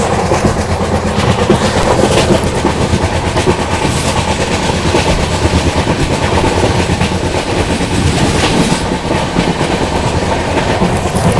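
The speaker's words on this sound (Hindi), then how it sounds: "यहाँ पर रेक खड़ा है आपका हड़पसर जोधपुर सुपरफास्ट एक्सप्रेस का" Loud, continuous rail noise at Hadapsar station, where the Hadapsar–Jodhpur Superfast Express rake stands, with a heavy rumble and rhythmic clickety-clack of wheels running throughout.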